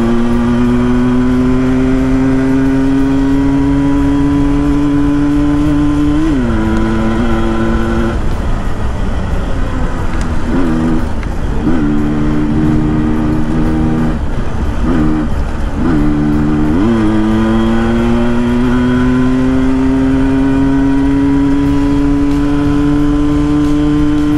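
A Yamaha RX 100 two-stroke motorcycle in full condition is ridden hard at top speed. Its loud, buzzing engine note holds steady, dips and climbs through several gear changes midway, then settles into a sustained high drone.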